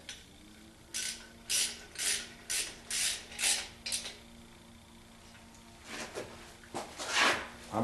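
Ratchet clicking in quick bursts while tightening a bolt on the water pump of a 1976 Corvette restomod, a run of close, crisp ratcheting strokes followed by a pause and a few more strokes.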